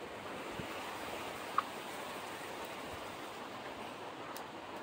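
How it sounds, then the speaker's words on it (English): Strong wind gusts during Tropical Storm Nicole make a steady, broad roar of rushing air buffeting the microphone, with a brief sharp knock partway through and no voices. "I get a really high gust of wind."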